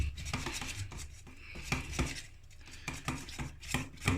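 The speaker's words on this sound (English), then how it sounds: "put the stain blocker on, give it a good stir, the stain blocker" A tin of thick, treacly stain blocker paint being stirred makes repeated scraping knocks against the metal tin in an uneven rhythm, close and fairly quiet, with no speech.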